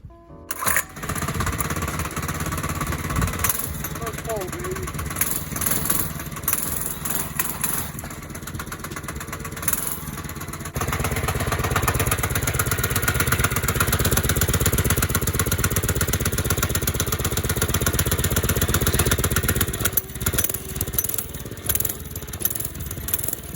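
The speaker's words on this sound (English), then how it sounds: "I'm going to start it up so you can hear how it sounds and kind of see how the motor acts" A Baja DB30 Doodlebug minibike's small engine starts and runs steadily for over twenty seconds, a loud, continuous mid-pitched motor drone with rough, buzzing texture and a brief rev change near the middle, with no talking.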